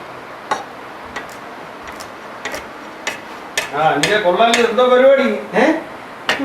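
A knife chops vegetables on a board in a home kitchen, landing as sharp, evenly spaced knocks about every half second. A person speaks briefly partway through.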